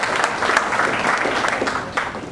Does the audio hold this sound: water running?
no